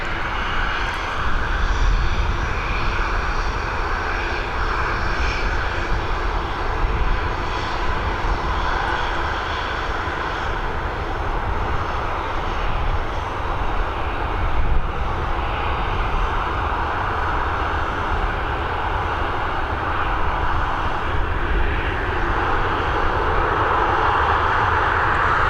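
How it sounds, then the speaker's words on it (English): A Transavia Boeing 737 jet departs Dublin Airport bound for Paris, heard from inside the aircraft as a steady, loud, broadband engine roar that holds level for the whole stretch. "We're heading over to Paris now with this Boeing 737 operated by"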